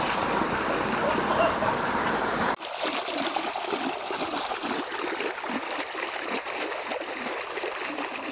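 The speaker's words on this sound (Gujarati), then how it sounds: "આ બાજુથી પાણી છેક સામે ખૂણે જઈ રહ્યું છે." Steady rushing and trickling of irrigation water flowing across a farm field, continuous and fairly close, with a brief louder splash near the start.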